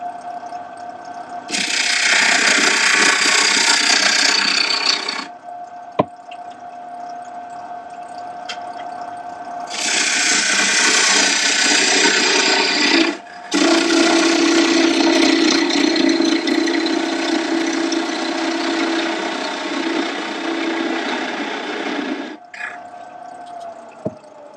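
A wood lathe spinning a piece of wood at about 1200 RPM, with a steady motor hum and bursts of loud, harsh cutting noise as the tool bites the wood, pausing briefly between passes.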